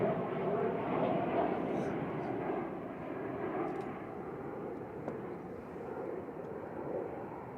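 A Boeing 737-800 airliner arriving at Manchester Airport makes a steady, broad jet roar that holds fairly loud throughout and eases slightly partway, with no clear talk over it.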